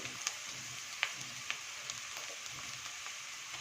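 Raw jackfruit flesh sautéing with a spice mix in a pan, Konkani style, giving a steady soft sizzle with a few faint stirring clicks, close and alone.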